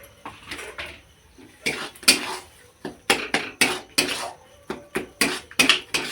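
A spoon stirs and scrapes thick pea paste in a metal pan, producing repeated sharp clanks and scrapes against the metal in an uneven rhythm, loud and close with quiet gaps between strokes.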